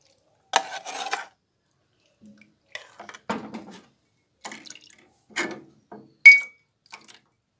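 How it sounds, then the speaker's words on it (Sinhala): Custard powder mixture stirred with a cup of lukewarm water, a spoon clinking and scraping against a bowl in scattered short bursts separated by silence, with a sharp ring near the end and no talk. "හොඳට කලවම් කරනවා."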